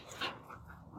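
Luna, a dog being trained to walk on a chain leash, lets out a brief, faint whimpering yip over quiet background.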